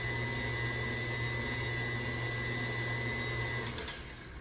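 An electric mixer whirs steadily through sweet potato pie filling, a constant close motor hum that winds down at the end.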